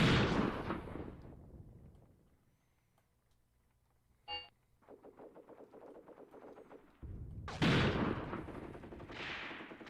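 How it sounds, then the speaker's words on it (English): Artillery guns fire in the tactical war game Graviteam Tactics: Mius Front: a heavy boom fades, a sharp crack follows, then a rapid rattle of fire and another loud, rumbling blast, with distant shots trailing after. "our guns are opening up"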